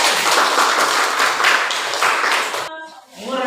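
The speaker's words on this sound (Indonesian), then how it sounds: "Tepuk tangan." Classroom applause from students fills the first two and a half seconds as dense, steady clapping, then cuts off abruptly, leaving a brief voice afterward.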